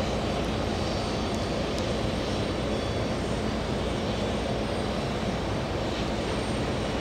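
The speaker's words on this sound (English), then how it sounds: "A330 stealing the spotlight, flying to Milan at Delta 286" A Delta Airbus A330 jet at JFK airport gives a loud, continuous broadband engine roar that stays steady and close throughout, with no voices over it.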